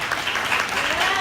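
Brief burst of audience applause at a spirituality panel talk, a short dense patch of clapping from the crowd lasting about a second.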